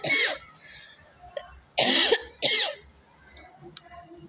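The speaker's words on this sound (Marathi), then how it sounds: "खोकला आलाय मला, काल लोणचं खाल्लं मी मिरच्याचं, त्याच्यामुळे खोकला आलाय." A woman coughs in three separate bursts, close and fairly loud, with short quiet gaps between them and a faint click near the end. She says the coughing comes from eating chilli pickle the day before.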